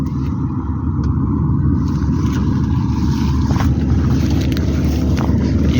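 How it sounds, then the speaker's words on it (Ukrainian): A Massey combine harvester and tractor work a barley harvest, giving a loud, continuous low engine drone and rumble close by, steady throughout with no talk. "Так працює наш комбайн Майсей."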